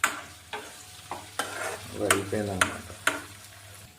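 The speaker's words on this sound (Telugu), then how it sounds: "ఇంకా అల్లం వెల్లుల్లి పేస్ట్ కూడా ఫ్రై అయిపోయింది మ్యాక్సిమం." Ginger garlic paste fries in a pan while a spoon scrapes through it in regular strokes about every half second over a low sizzle, and a voice speaks briefly partway through.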